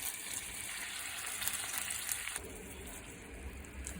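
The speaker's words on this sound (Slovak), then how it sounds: "Morčacie stehna sme si teraz dali na olej s maslom." Turkey thighs fry in oil with butter, giving a steady, fairly quiet sizzle and crackle that shifts in texture partway through, with no voices over it.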